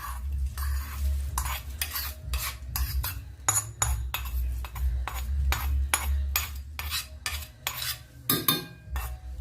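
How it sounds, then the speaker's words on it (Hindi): A spoon stirs roasted dry fruits into cooled roasted khoya in a pan while making mawa gujiya, giving steady scraping and clinking strokes at close range, one after another with no talk. "भूनने के बाद इसी में मैं जो मैंने ड्राई फ्रूट अभी सेके हैं ये इनमें डाल देती हूँ।"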